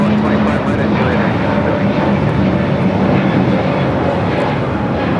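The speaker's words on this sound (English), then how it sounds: "1715 taking off to Guadalajara on the A321neo." An Airbus A321neo jet taking off from LAX, bound for Guadalajara: a loud, sustained broadband engine roar that stays strong and even from start to finish.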